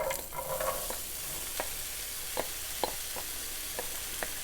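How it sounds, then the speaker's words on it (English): Diced onion, celery and apple sauté in melted butter in a pan. The sizzle is soft and steady and sits close, broken by a handful of sharp clicks and scrapes from stirring. No one speaks. "You want to saute all the ingredients for about 8 to 10 minutes."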